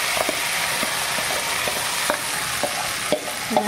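Sago pearls stirred into hot oil with cumin and peanuts for sabudana khichdi give a steady frying hiss, with a spoon scraping the pan in irregular strokes close by and no voices.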